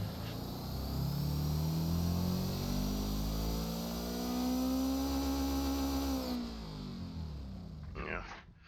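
Simulated Subaru STI 2015 engine built to make 800 horsepower on ethanol in the game Automation, revving up in long rising sweeps, easing off and climbing again before cutting out.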